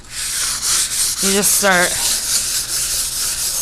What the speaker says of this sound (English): and sand this down. This is the 320.